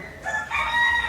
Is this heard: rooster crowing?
yes